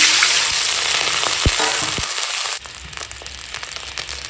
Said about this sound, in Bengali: কড়াই অল্প করে তেল দিয়ে এখন দিয়ে দিচ্ছি চেরা কাঁচা লঙ্কা আর কালো জিরে